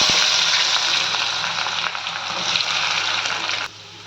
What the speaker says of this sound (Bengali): তেলটা গরম হয়ে গেছে, এখন পেঁয়াজটা ছেড়ে দিচ্ছি।